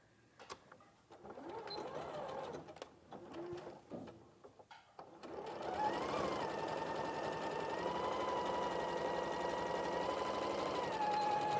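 A sewing machine sews shoulder seams together, with a few short bursts of stitching followed by a long, steady, close whir, and no talking.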